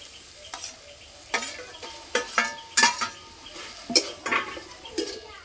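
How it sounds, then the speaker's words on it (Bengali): A spoon scrapes and stirs grated potato into fried spice masala in a pan for aloo paratha, giving irregular clinks and soft scraping over a faint sizzle. "এবার গ্রেট করে রাখা আলু দিয়ে দেবো।"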